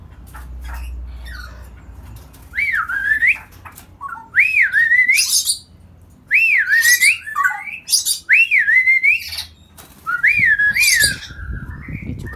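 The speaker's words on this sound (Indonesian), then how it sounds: "Ini cucak rawa." A caged straw-headed bulbul, or cucak rawa, sings loud, clear, close whistled phrases, about five rising-and-falling bursts separated by short gaps, with a faint low rumble between them.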